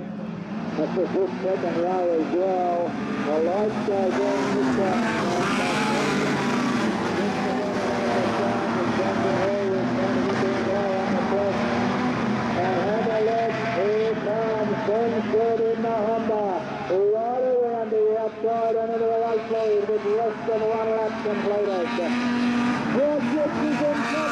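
Modified sedan race cars roar around the track at Kingaroy, engines droning loudly and continuously with rising and falling pitch as they pass, while a commentator talks over the racing.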